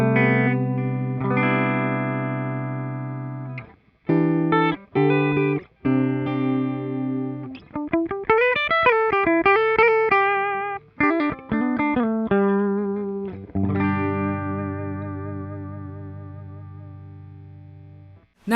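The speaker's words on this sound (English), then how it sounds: "what you're hearing is my guitar only and the cabinet simulation" A Sire Larry Carlson S7 electric guitar played clean through cabinet simulation, with sustained chords, quick single-note runs and bends, pauses between phrases and a ringing chord to finish.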